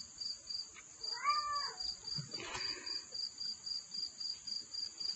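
A pet cat lets out a single faint meow against a quiet room, while a steady, rhythmic chirping of crickets pulses throughout.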